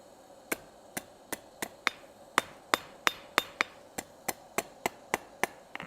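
Steel being hammered over the edge of an anvil at a blacksmith's forge: a steady series of about sixteen sharp, ringing metallic strikes, evenly paced and close, with no talking.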